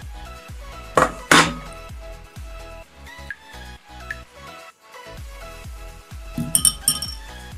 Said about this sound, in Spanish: Y ahora las ponemos en un plato.